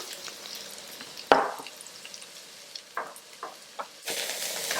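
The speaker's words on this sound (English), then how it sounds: "then we're going to add the boiled potatoes. Fry for about 5 minutes" Boiled potatoes frying in a pan for a potato fry curry, a steady soft sizzle with a sharp clatter as they go in and a few light stirring scrapes, rising to a louder hiss at the end.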